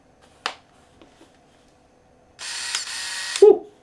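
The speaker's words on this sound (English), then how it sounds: "Lens is noisy." A Minolta 35–105 mm zoom lens on an SLR film camera gives a sharp click, then a whirring autofocus motor buzz of about a second that ends in a mechanical snap, close and loud in a quiet room.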